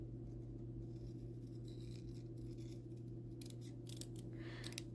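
Scissors snipping through paper card while making a folded card, a series of crisp cuts over a steady low hum, growing more frequent toward the end.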